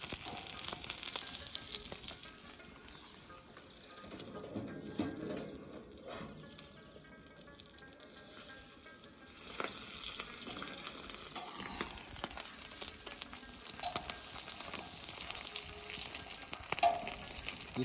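Ingredients for chapli kebabs slowly frying and simmering in their own released oil, making a continuous crackling sizzle that softens in the middle and then grows louder again, with occasional utensil clinks.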